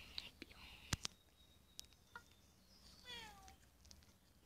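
A cat character in the Block Craft video game gives a soft, faint meow amid a few clicks and a quiet whispering voice.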